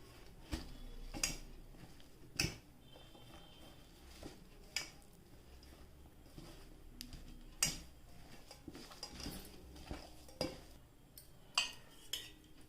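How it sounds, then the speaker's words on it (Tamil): An egg cutlet mixture with spices is stirred in a bowl, giving faint, irregular clinks and taps of a spoon against the dish with soft scraping between them, quiet and close. "இப்போ இதை நல்லா மிக்ஸ் பண்ணிவிடுங்க."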